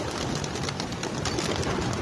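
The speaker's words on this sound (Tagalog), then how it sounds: "Ay, ibon." Pigeons at a racing pigeon release in Candaba, Pampanga, in the morning: a dense, continuous flutter and bird noise throughout, close and fairly loud, with no talk.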